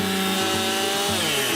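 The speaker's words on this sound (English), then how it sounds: "We've also been doing a lot of chainsaw work." A chainsaw cuts wood during wildfire cleanup, its steady engine drone running close and loud with small dips in pitch as the bar works through the wood.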